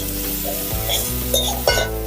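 Sliced onion and two whole green chilies fry in hot oil over a high flame for a fish curry, giving a steady close sizzle with a couple of spoon or pan clinks; no talking.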